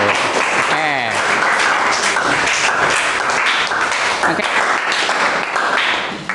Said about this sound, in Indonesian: Kasih tepuk tangan dong untuk ketiga yang sudah maju.